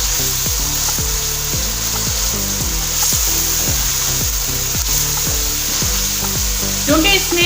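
Chicken butt karahi frying in a pan over a medium flame gives a steady, close sizzle throughout, with rhythmic tonal background music running underneath.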